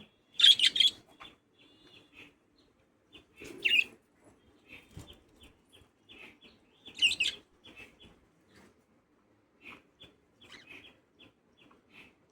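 Pet birds chirping at home: a few short bursts of bright calls spaced several seconds apart, with faint scattered peeps between, fairly close and otherwise quiet, no talking.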